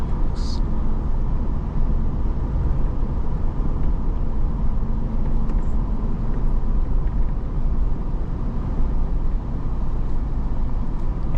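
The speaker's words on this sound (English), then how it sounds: "this truck's gonna have some pretty good highway acceleration" A 2007 Toyota 4Runner body-on-frame truck accelerating on the highway, a steady loud low engine and road drone that holds constant throughout, with no one speaking.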